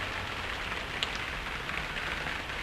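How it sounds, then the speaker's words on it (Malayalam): Steady rain falls in an outdoor scene from a short film, a dense, even hiss of drops that holds at one level from start to finish, with no talking. "അയ്യോ മഴ പെയ്തല്ലോ"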